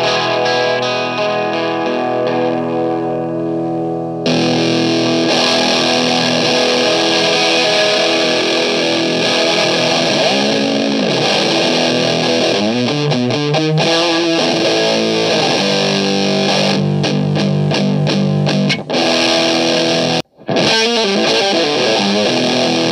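Heavily distorted electric guitar, through a distortion pedal, plays loud, thick chords and riffs for a long stretch, with sustained crunchy tones and a brief cut near the end.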